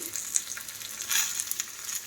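Onion, curry leaves and dried red chillies frying in hot oil for a tempering, a close continuous crackling sizzle with a few sharper pops and stirring sounds, no voices.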